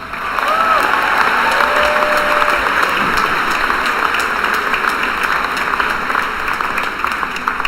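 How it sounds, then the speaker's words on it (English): Sustained audience applause fills a high school commencement ceremony in Minnesota, a steady dense wash of clapping from a large crowd that holds at an even level throughout, with a faint voice briefly audible near the start. "Another round of applause for that."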